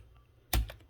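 A single quick burst of keystrokes on a computer keyboard while entering a circle's diameter in drawing software, close and fairly quiet against a near-silent room.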